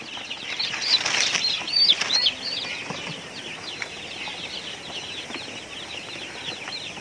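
Chickens and young chicks in a roomy coop, with a burst of wing flapping and high clucks and peeps near the start, then softer scattered clucking and chirping continuing at moderate distance.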